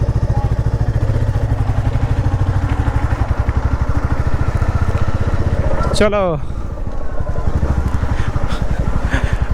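A motorcycle being ridden, its engine droning steadily and close throughout with wind rumble, while someone talks over it and a brief whistling sweep cuts in partway.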